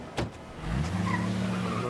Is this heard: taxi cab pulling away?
yes